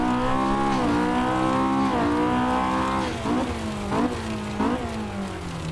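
Axfor ProPulsion S2 Junior buggy with a Honda K20 engine in Assetto Corsa, its engine droning loud and steady in a high rev band, with several quick dips and surges as the revs drop and climb back during gear changes.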